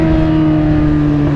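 A Yamaha XJ6 motorcycle engine runs loud and close at a steady, low idle-like drone with strong even tones, alone without talk.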